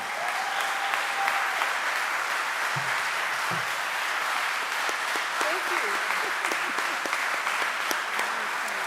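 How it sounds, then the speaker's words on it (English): A Hall of Fame induction crowd applauds three honored leaders, a steady wash of many hands clapping that holds at even loudness throughout, with faint voices murmuring underneath. "they deserve a big round of applause"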